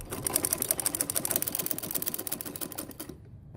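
A sewing machine stitches a Patiala salwar, its needle running in a rapid, steady clatter close by before stopping abruptly near the end.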